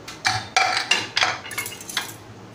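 A cooled pressure cooker lid is worked open after its whistle is lifted, giving a run of about six sharp metallic clanks and clinks in quick irregular succession, close and fairly loud, with no talk.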